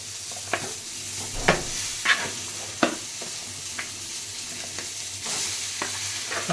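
Chicken pieces fry in hot oil with turmeric, giving a continuous close sizzle broken by several sharp spoon scrapes and knocks as they are stirred; no talking.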